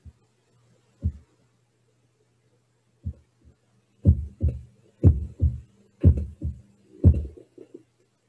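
A heartbeat from the end of an album thumps low and muffled, starting with a few sparse beats and then settling into steady paired lub-dub pulses.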